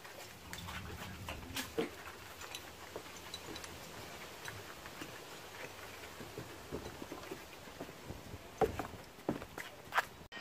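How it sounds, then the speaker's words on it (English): A dog at a door, faint scratching, pattering and snuffling sounds scattered through a quiet room, with a few louder taps near the end. "I just heard a dog at the door"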